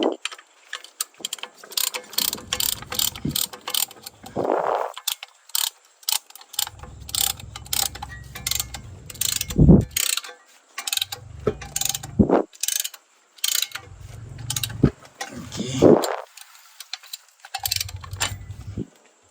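Ratchet wrench tightening a brake caliper bolt on a Perodua Myvi, close and loud, in repeated bursts of rapid clicking separated by short pauses and low thuds.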